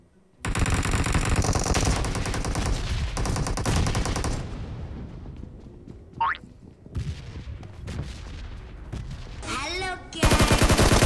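Loud, dense bursts of automatic gunfire and rapid shots from a PUBG match, with near-continuous firing for several seconds, then scattered shots, brief whistling effects and a final heavy burst of fire.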